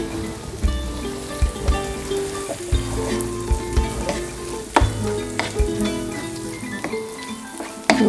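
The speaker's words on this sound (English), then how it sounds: "Mix all that in." Sour cream is stirred into a pipian stew in a pan, a spoon scraping and clacking in an irregular rhythm over a constant close sizzle.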